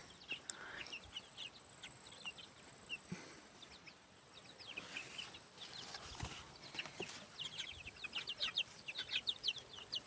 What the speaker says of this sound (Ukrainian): Вон які півні мої.